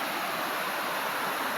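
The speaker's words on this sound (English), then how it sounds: "Beautiful waterfall." Waterfall beside a lake on a breezy spring day, a continuous broadband rush of falling water with some wind, steady and fairly close, with no voices.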